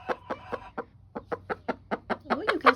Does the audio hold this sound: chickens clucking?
yes